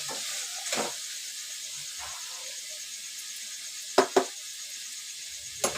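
Vegetables and soybean chunks sautéing with salt in a pan for soyabean biryani, a soft steady sizzle broken by a few sharp scraping stirs and clinks, with no talk.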